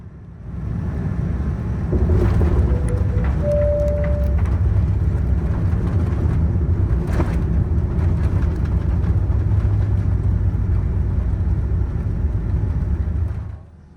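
Cabin of a Virgin Atlantic jet on final approach to land on runway 27 at Heathrow, inbound from Shanghai: a steady, loud low-pitched engine and airflow roar that holds for the whole stretch, with a brief higher tone and faint clicks partway through.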